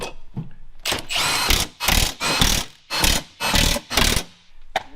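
A hand ratchet clicks in quick bursts as it tightens the centre bolts on a GM truck bumper. There are about six or seven close, loud runs of rapid pawl clicks, each separated by short pauses.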